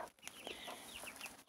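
Chickens and a rooster in a backyard cluck softly in short, scattered calls, heard at a faint distance over a low background hiss.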